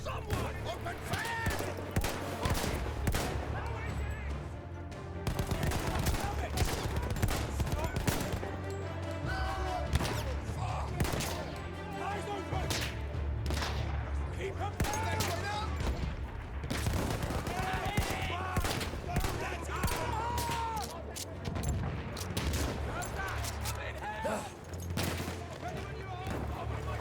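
Dense gunfire in the Battlefield 1 video game, with rapid rifle and machine-gun bursts, heavy blasts and crashes packed together without pause, and shouting voices mixed in over the battle.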